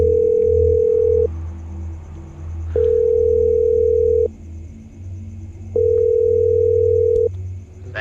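Ringback tone from a telephone call placed in a horror video game, three long steady beeps separated by pauses over a low background hum, with no talking.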